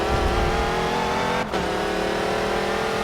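An Audi R15 race car in Forza Motorsport 7 holds a loud, high engine drone close up, briefly dipping as it shifts and then pulling hard again.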